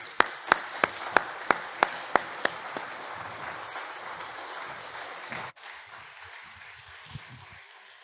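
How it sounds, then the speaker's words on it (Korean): A church congregation at a Sunday worship service claps to welcome a guest speaker to the front. A few sharp, separate claps quickly merge into a dense round of applause that stops abruptly, leaving a quiet room with faint stray sounds. "우리 나오실 때 박수로 축복하며 환영하겠습니다."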